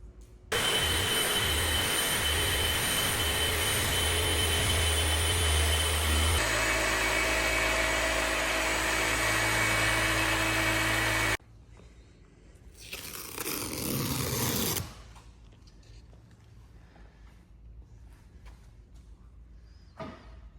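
Machine polisher buffing the roof of a new Lotus Emira, a steady loud motor whine with a shift in pitch partway, then cutting off to quiet, followed by a brief burst of polishing noise before fading to low background.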